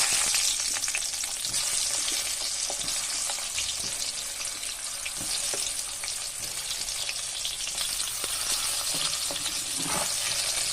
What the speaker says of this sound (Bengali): লাল লাল করে বেগুনগুলো ভেজে নেব